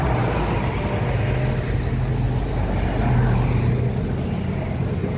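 Road traffic idles at a stoplight near a church, with a steady loud rumble of cars and heavier vehicles and the low drone of engines continuing throughout without a break.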